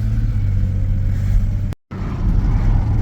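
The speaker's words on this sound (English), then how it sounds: "I'm going to drive, of course, on normal road to see how it vibrates at different speeds" A car rolling along an ordinary road at steady speed, its engine and road noise forming a continuous close rumble, with a brief dropout partway through and no talk.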